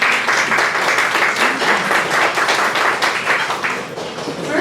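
A crowd at a Dallas breakfast gathering welcomes a speaker with loud, sustained applause, a dense wash of clapping that runs unbroken for several seconds.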